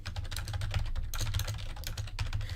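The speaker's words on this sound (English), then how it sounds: "I'm also typing that as you hear me furiously type" Rapid, furious typing on a computer keyboard: dense clusters of close, crisp key clicks patter continuously with no pauses.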